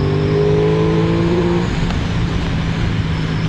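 An Aprilia Tuono 660 motorcycle accelerates hard. A loud, close engine note sweeps in pitch, then breaks into a rougher, broader roar with road noise as the bike keeps pulling.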